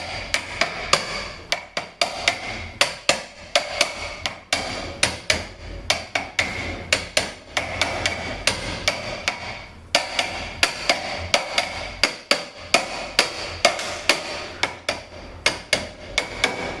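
Repeated hammer blows knock the pump out of an E4OD transmission during a teardown, sharp metallic strikes landing in irregular clusters, close and loud, with a short pause midway and no talk.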